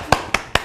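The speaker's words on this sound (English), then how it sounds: "when I clap my hands, you're gonna switch" Three sharp hand claps ring out, evenly spaced about a fifth of a second apart, crisp and close with nothing else around them.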